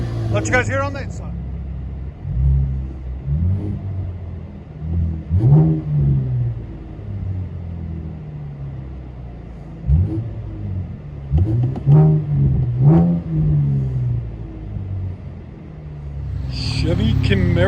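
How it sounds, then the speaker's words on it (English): Inside a 2015 Chevy Camaro with a 3.6L V6 and REV-9 axle-back dual exhaust, the engine rumbles at idle and is revved in several surging bursts, loud and close. Brief voices come at the start and end. "V6 REV-9 exhaust. That's what it sounds like."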